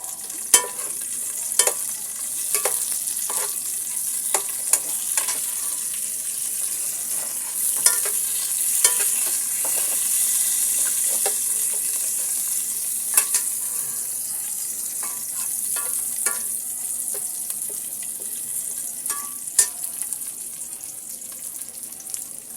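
Chopped onion fries in oil in a pan for a beef rezala, a continuous close sizzle with repeated sharp clicks and scrapes of a spatula stirring throughout, without speech.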